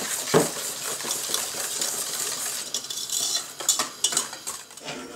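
A utensil stirs the custard mixture for a raspberry tart, with cornstarch and milk, in a pot, making clinking metallic scrapes that grow busier and more frequent toward the end.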